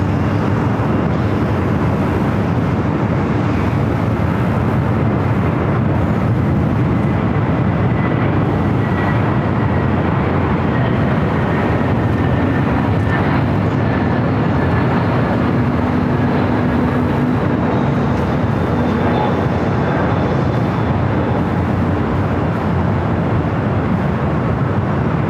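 Airbus A350-900 airliner arriving at LAX from Copenhagen, a broad steady roar of jet engines with a faint whine, continuous and fairly loud throughout.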